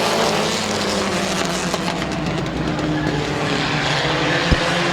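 Race cars roar around the track at Midvale Speedway in a dense, continuous wash of engine noise, loud and close throughout with no clear breaks and no talk.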